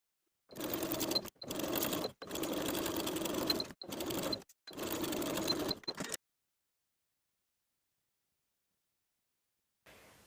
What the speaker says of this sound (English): Sew through all thicknesses with a 3/8 inch seam allowance.